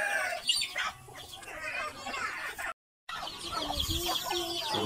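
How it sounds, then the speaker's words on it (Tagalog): Free-range native and Rhode Island mixed-breed chickens cluck busily nearby at feeding time, with overlapping calls and a rooster crowing among the flock. "Mixed breed sa native chicken at sa Rhode Island."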